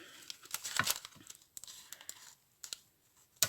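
Paper being cut and torn by hand, a Daily Prophet newspaper page with tracing paper stapled to it, giving close, irregular crinkling and tearing rustles in short bursts.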